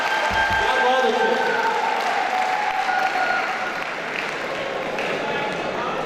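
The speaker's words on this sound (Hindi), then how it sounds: "तालियां बजाएं यार भाई के लिए" Applause from the audience at a mushaira poetry recital at a college in Jhang, a broad wash of clapping that starts strong and gradually thins while voices murmur underneath.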